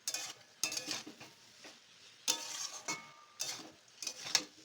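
Ash gourd with mung dal being stirred in a pot, a few separate scraping and clinking bursts of a spoon against the metal with quiet pauses between, close and fairly soft.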